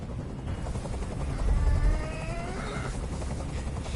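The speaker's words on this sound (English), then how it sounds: "Tell that helicopter to get out of here." A helicopter in the video game Detroit: Become Human, its low rotor thrum heard faintly at a distance under quiet game ambience, swelling briefly in the middle before settling back.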